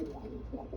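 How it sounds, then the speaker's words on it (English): Pigeons coo softly in an aviary, a brief low burbling call heard faintly at a short distance. "Pigeons need safety and they need company"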